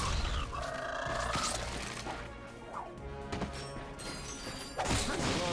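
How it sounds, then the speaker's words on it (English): Wooden crates smash apart in Ratchet & Clank, with loud splintering crashes and bursts of breaking debris over game music and effects. "Look at him smashing crates."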